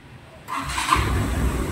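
A 400cc 4x4 fuel-injected ATV engine cranks and starts up, settling into a rough, steady idle close by.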